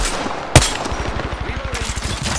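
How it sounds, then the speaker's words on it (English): Loud single shot followed by a steady rapid burst of automatic gunfire in the shooter game Apex Legends, close and continuous. "Opening fire"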